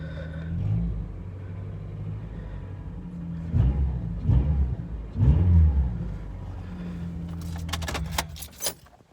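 A Honda Accord with some exhaust work still sounding close to stock idles with a steady low rumble, then revs in three short swells around the middle before settling, with a few metallic jingles near the end.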